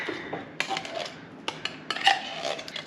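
A whisk scraping and clinking against a mixing bowl of canned pumpkin puree: quick bursts of metallic clatter and scraping close by, with short gaps between them and no talk.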